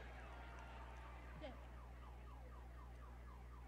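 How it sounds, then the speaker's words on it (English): A distant car alarm cycling through repeated chirping and warbling tones, faint against a steady low electrical hum. "You can hear a fucking car alarm in the background."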